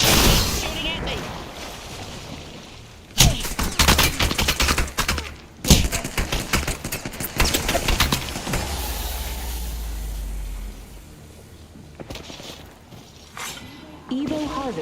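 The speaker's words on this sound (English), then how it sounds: "I'm getting shot at." Apex Legends gunfire comes as several loud bursts of shots and sharp impacts scattered through the stretch, mixed with game effects and talking.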